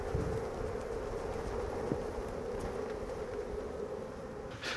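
Honeybees buzz softly in a steady drone around an open beehive, faint and continuous, with a few small knocks.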